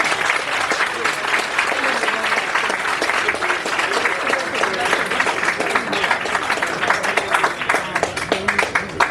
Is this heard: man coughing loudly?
no